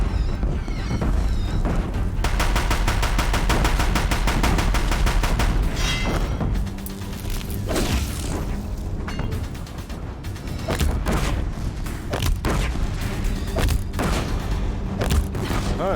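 Deathbringer machines in Horizon Zero Dawn unleash rapid gunfire, a dense rattling volley of machine-gun bursts with repeated booming impacts and explosions, loud and sustained across the battle with brief pauses.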